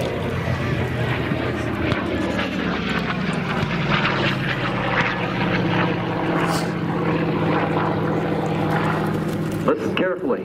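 A WWII propeller warbird flies an air show demonstration at Geneseo, its engine a loud, steady drone that holds for the whole stretch, with a voice talking underneath.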